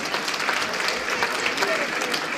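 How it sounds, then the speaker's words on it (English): Applause for Mario at a cancer research charity dinner dance, a dense burst of crowd clapping, close and loud, with faint voices mixed underneath. "Let's give Mario a very big round of applause."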